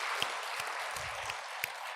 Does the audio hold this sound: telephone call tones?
no